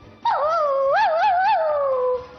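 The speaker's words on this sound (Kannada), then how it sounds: "ಈ ನಾಯಿಗೆ ಇಷ್ಟ ಇಲ್ಲ ನೋಡಿ." A dog on a TV game show set gives a single drawn-out whining howl that wavers up and down in pitch, close and clear, lasting about two seconds with no talk.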